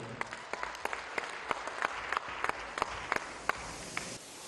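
A concert crowd in Grozny applauds as a singer comes on stage: continuous moderate clapping with sharper individual claps standing out at irregular intervals, heard from some distance in a large hall.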